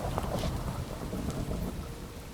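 Steady rain patters and hisses in a Minecraft world while a dull rumble of thunder rolls underneath, moderately loud and continuous.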